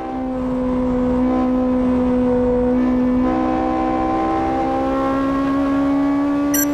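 A Toyota AE86 race car on a timed attack lap, its engine note droning loud and steady, pitch rising gradually as it accelerates, with no voices over it.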